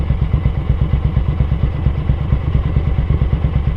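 A Ducati 900SS bevel-drive motorcycle engine idles as it warms up after a jet and needle change, a loud, close, lumpy rhythmic thumping with steady pulses throughout.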